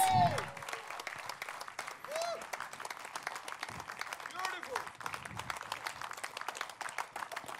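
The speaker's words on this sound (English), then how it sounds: "A huge round of applause for these warriors." A studio audience applauds contestants on a competition show, with crisp scattered clapping throughout and whoops and cheering voices rising over it at moments.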